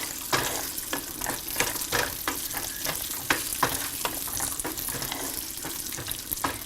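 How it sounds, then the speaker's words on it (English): Cashews and raisins fry in hot oil, crackling and sizzling steadily while a utensil stirs them with repeated scraping clicks, close and moderately quiet. "Now the oil is hot and we can add the cashews and the raisins to it."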